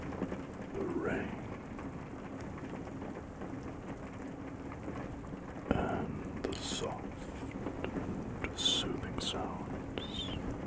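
Steady rain patters in the background throughout, mixed with soft close whispering and a few light handling sounds; no distinct thunder stands out.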